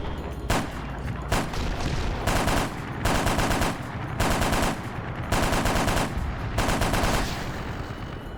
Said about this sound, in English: Out of rockets, now I get to use this gun.